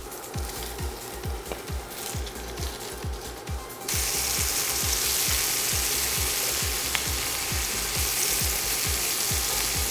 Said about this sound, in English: we're gonna add in our sausage and get it browned on all sides.